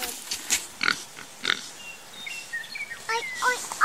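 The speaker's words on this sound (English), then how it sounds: "Oink, oink, oink." Pigs behind a barbed-wire fence on a farm give repeated squeals and grunts at moderate distance, scattered irregularly over steady outdoor background noise.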